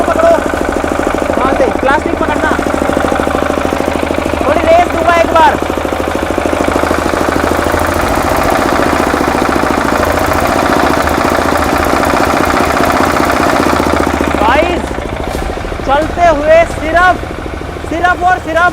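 A diesel engine is revved once, a steady loud rumble swelling briefly and then settling back, with people talking close by over the running engine throughout.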